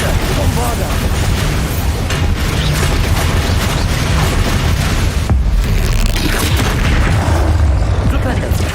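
The Bombarda explosion spell blasts during a Hogwarts Legacy battle with deep booms and bursts inside dense, continuous combat noise, and voices are heard throughout.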